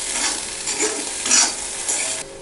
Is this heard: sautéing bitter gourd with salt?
yes